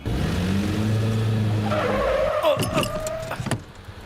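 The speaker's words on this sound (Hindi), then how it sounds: "गाड़ी क्यों रोकी?" A car in a comedy film scene skids to a halt, the engine's rising drone giving way to a sharp tire squeal and scraping chatter that fades out as the vehicle stops.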